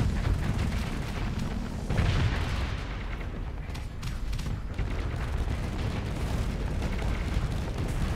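Rocket explosions in the space game Starsector form a dense, continuous rumbling barrage of booms and blasts, loud and steady throughout with no voice over it.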